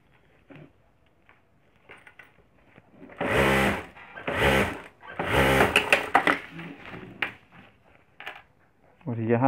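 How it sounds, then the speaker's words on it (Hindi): A sewing machine stitches along the top of a handmade cloth bag in several short bursts of rapid mechanical whirring, close and fairly loud, separated by pauses. "और एक ऊपर सिलाई कर देनी है हमें।"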